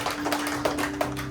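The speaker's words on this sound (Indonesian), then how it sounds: "Tuhan itu hebat. Tepuk tangan bagi Tuhan." A church congregation at a Sunday service claps along in an uneven rhythm of short, close hand claps over a sustained low hum, with no talking.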